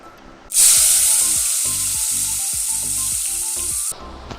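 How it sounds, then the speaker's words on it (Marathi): Finely chopped tomato hits a hot pan with mustard seeds and asafoetida in oil, bursting into a loud, sustained sizzle that holds steady for several seconds before cutting off, with faint rhythmic stirring scrapes underneath. "आता आपल्याला एक बारीक चिरलेला टोमॅटो यात घालायचा आहे"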